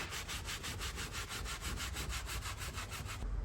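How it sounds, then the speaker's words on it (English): A brush scrubs car seat fabric in a crisscross pattern, a rapid, steady back-and-forth rasp of about a dozen even strokes, close and fairly loud with no talk. "you kind of want to do a crisscross pattern when you're scrubbing the seat down"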